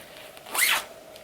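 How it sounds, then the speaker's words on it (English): A single quick zip as the zipper on a Chanel garment bag is pulled, one smooth rising rasp lasting under half a second, close and clear against a quiet room. "It has a zipper on it,"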